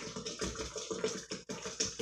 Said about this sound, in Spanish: Le pongo dos botellas de agua para que sepan súper ricos y no quede tan espeso